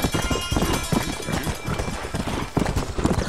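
A horse gallops in Red Dead Redemption on PS3, with loud, fast, continuous hoofbeats up close and a faint voice now and then.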